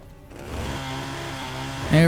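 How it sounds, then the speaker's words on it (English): A chainsaw melee weapon revs in Fallout: New Vegas, giving a steady buzzing engine drone that swells louder at the end. "Which is just a chainsaw."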